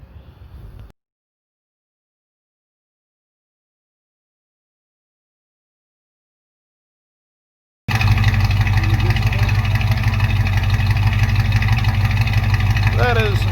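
A stock engine in a 1972 Chevrolet C10 truck with cast iron exhaust manifolds and Hooker dual exhaust with turbo mufflers idles with a steady, loud, deep rumble after a stretch of silence.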